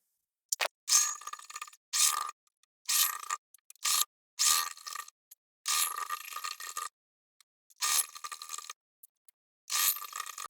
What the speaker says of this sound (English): now I will sew all along the edge